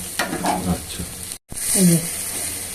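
Food frying in a pan on a gas stove with the flame turned low, a steady close sizzle with stirring scrapes, briefly cut off, while someone talks over it.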